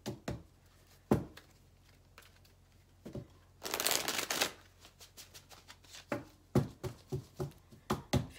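Tarot cards being shuffled close up in quick riffling bursts, with a longer dense riffle in the middle and sharp taps and snaps around it.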